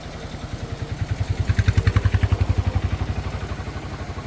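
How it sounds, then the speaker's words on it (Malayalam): Auto rickshaw crossing a bridge, its small engine putting in a rapid, pulsing chug that swells as it passes close by and then fades slightly, with no talk over it. "പാലത്ത് കൂടി ഒരു ഓട്ടോ വരുന്നുണ്ടേ."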